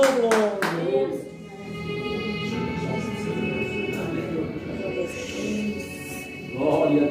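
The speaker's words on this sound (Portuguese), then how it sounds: "Uma salva de palmas para Jesus." Congregation clapping together at an evangelical church service, a sustained burst of applause with voices over it, swelling again at the end.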